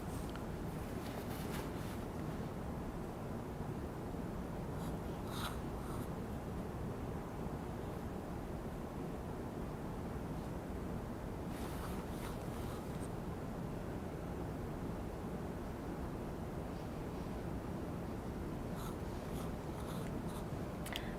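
A number 6 flat brush stroking paint onto a wood slice for a tree ornament, giving a soft continuous scratchy brushing close up, with a few brighter strokes scattered throughout.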